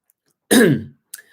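A single harsh, dry cough or throat-clearing burst, close and fairly loud, followed by a short faint catch of breath.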